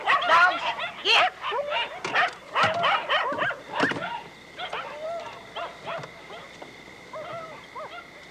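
Several dogs bark sharply at a rural homestead at night. The bursts come in quick, loud clusters at first, then thin out into scattered yips and whimpers.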